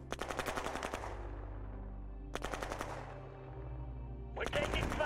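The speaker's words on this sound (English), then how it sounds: "We're taking fire." Rapid bursts of automatic gunfire in the strategy video game Shadow Empire, three separate volleys of loud staccato shots with short pauses between them.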